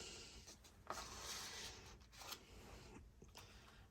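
A pen scratches across paper in soft, close strokes, quiet and uneven, with brief pauses between marks and no talking.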